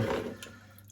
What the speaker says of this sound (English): Just gonna squeeze the excess of water.